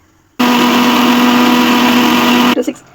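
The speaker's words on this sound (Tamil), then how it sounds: "மிக்ஸி ஜாரில் கொஞ்சம் தேங்காவை போட்டு நல்ல மையாக அரைச்சிக்கோங்க" A mixer grinder grinding coconut starts abruptly and whirs with a loud, steady high-pitched drone for about two seconds, then cuts off and winds down with a few rattles.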